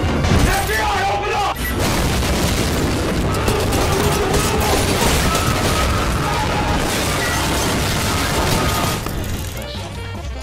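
A grenade blast in Apex Legends sits within dense, loud gunfire and booming impacts that run almost without pause, with excited voices shouting over the game noise.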